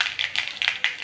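Mustard seeds crackling in hot coconut oil in a kadai, a quick series of sharp pops and spits close by, irregularly spaced over a steady sizzle.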